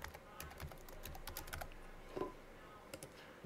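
Soft, rapid clicks of fingers tapping a Wi-Fi passphrase on the small keypad of an MC65 or ES400 handheld computer, a quiet irregular patter of keypresses heard up close.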